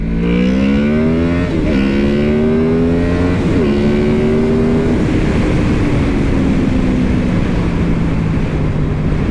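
A 2014 Honda VFR800 motorcycle with a VTEC engine revs hard in first gear, the engine note climbing in pitch through several rising sweeps with brief dips at each step, loud and close with no talking.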